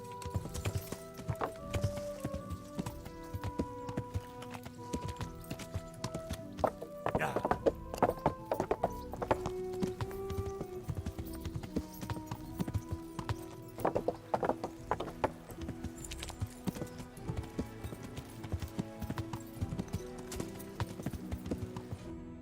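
Horse hooves clip-clop steadily in the medieval game Kingdom Come, a continuous rhythmic clatter with an occasional whinny, set against layered game ambience and music throughout.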